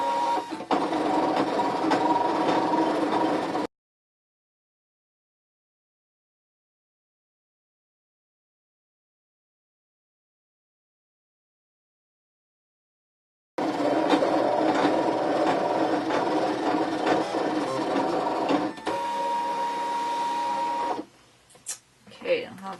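A Brother ScanNCut 2 cutting machine cuts out digital stamps, a steady mechanical whirring and buzzing of the cutting head in two long bursts with a silent gap between, ending in brief clicks.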